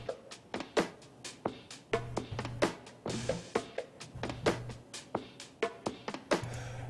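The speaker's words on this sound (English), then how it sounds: "So the hi-hat sample sounds like this by itself." A hi-hat drum sample plays alone in a loose repeating pattern of crisp, bright ticks and short splashy hits, moderately quiet with a faint low hum underneath.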